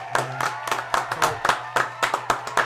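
A few people clap in a quick, uneven rhythm to close an episode of a podcast, sharp individual claps sounding close over a low humming tone in the background.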